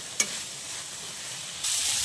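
Spices frying in oil in a pan for a greens stir-fry, with chili powder mixed in. A short scrape of stirring comes early, then a steady sizzle rises sharply louder near the end.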